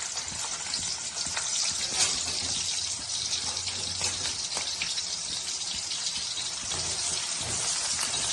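Onions frying in hot oil for Nellore fish curry make a loud, steady, close sizzle that carries on unbroken, with no talking.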